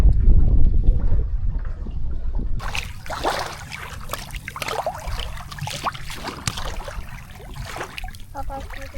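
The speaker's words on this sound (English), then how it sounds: "We are just day sailing." A sailboat day sailing on the Chesapeake carries steady wind rush and water swishing against the hull, with a low rumble at first and then brighter splashing and gurgling throughout.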